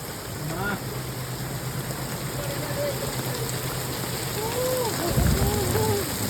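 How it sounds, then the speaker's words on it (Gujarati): Steady heavy rain pours down in a broad continuous hiss, with faint voices talking intermittently over it and a brief louder low rumble near the end. "એટલો બધો વરસાદ ચાલુ થઈ ગયો છે"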